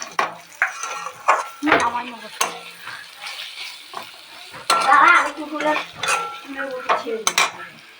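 Spices fry in a pan for fish curry, sizzling loudly up close as a utensil repeatedly scrapes and clinks against the metal in irregular bursts.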